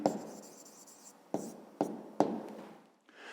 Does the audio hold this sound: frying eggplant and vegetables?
no